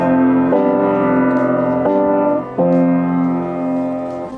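Guitar chord sounding over a sustained F bass note, a warm layered harmonic tone with three soft re-strums at roughly one-second intervals, steady and close with no voices.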